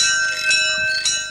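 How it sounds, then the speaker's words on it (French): A bell rings steadily to signal that classes are about to begin, with sustained ringing tones and two brighter strikes, heard alone without talking. "La cloche retentit, les cours vont bientôt commencer."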